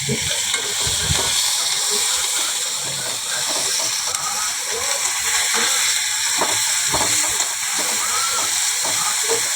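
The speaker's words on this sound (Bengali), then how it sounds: "পেঁয়াজটা কষাচ্ছি, ততক্ষণ লাল লাল দিচ্ছি, ব্রাউন কালার ওর জন্য" Onion browning in oil in a frying pan makes a loud, steady sizzling hiss, broken by occasional soft stirring knocks, with no talk over it.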